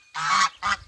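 Geese honking loudly near an elderberry shrub in a food forest garden: two harsh, close honks in quick succession, the first longer and the second shorter.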